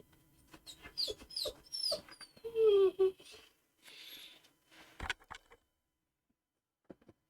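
A dog whimpers and yips close by in a quiet room, with several short, high, whiny bursts and soft panting-like breaths that fade into silence.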